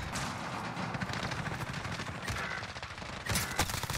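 Shotgun fire in a shooter video game, a dense run of loud, closely spaced blasts that continues through the clip, with a sharper cluster of shots near the end.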